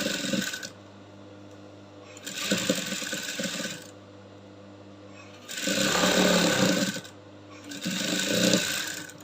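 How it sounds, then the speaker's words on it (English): A sewing machine stitches a top stitching line on a lace shift gown in several bursts, each a fast, steady whirring run of a few seconds separated by brief pauses, close and clear. "I'm going to sew on the top stitching line"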